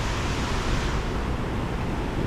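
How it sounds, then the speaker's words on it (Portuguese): Waterfall water rushes in a steady, dense roar, loud and close and unbroken, with no voices on a trail at São José do Barreiro. "é ali, galera, a cachoeira"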